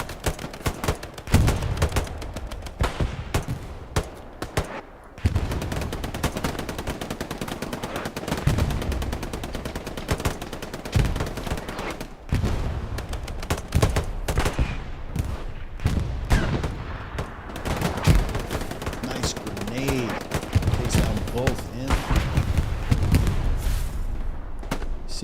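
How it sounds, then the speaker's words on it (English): Dense, continuous machine gun fire in the World War II shooter Hell Let Loose on the Foy map, several automatic weapons trading long bursts over distant rifle shots and booms, loud throughout with a brief lull near five seconds. "you can see competing MGs"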